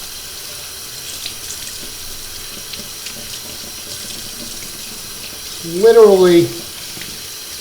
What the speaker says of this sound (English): run some cold water, and just start separating and getting all that sand washed out